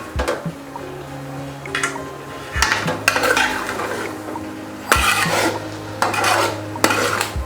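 A spoon stirs aviyal, a Kerala mixed vegetable curry, in a metal pot, giving repeated scraping sweeps and sharp clinks against the rim, with a faint, steady hum underneath.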